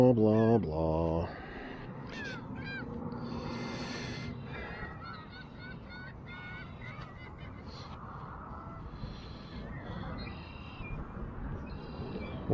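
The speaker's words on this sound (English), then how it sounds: "What noisy seagulls." Raucous seagull calls, harsh and repeated, ring out in a cluster, then continue more faintly over an outdoor background of wind and water.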